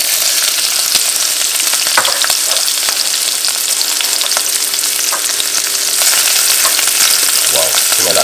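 Red onion sizzles and fries in a pan with garlic, a steady loud crackling hiss running throughout with scattered sharp pops and a few stirring scrapes, no voices present.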